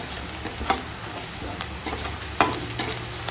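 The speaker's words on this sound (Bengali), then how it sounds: "তেল গরম হয়ে গেছে, এই যে পেঁয়াজ আর কাঁচা লঙ্কা দিয়ে দিলাম, আর দিয়ে দেবো রসুনের থেঁতো," Onion, green chili and crushed garlic fry in hot mustard oil, a steady, close sizzle broken by a few sharp clicks and stirring knocks from the pan, with no talking.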